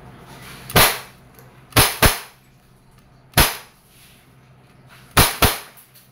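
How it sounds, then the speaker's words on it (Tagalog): Umarex Glock 17 Gen 5 CO2 airgun firing steel BBs, six sharp cracking shots at close range, some single and some in quick pairs, with quiet gaps between. "Firing. One shot."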